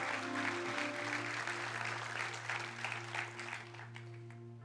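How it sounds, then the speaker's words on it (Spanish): Applause from a church congregation over sustained musical tones during a service, clapping dense at first and gradually thinning and fading toward the end. "Dele un fuerte aplauso a Dios por eso."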